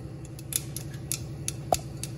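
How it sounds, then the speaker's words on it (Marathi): Mustard seeds crackling in hot ghee in a pressure cooker, sparse sharp pops and ticks at irregular intervals over a low steady hum, close and fairly quiet with no talk. "मोहरी छान तडतडलेली आहे"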